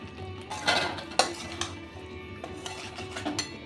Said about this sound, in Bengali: এবার দিয়ে দেব পটল আর আলু